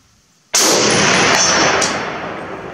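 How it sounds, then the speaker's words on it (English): A single loud, close gunshot from a Model 1941 Johnson rifle cracks sharply out of near silence, followed by a long ringing echo that slowly fades. "Shot number 2."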